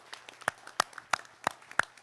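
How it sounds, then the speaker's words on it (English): Applause for a sheriff at a delegate assembly meeting: about half a dozen sharp, evenly spaced claps, fairly faint and sparse, as if from only a few hands in a quiet room. "Let's give him a round of applause."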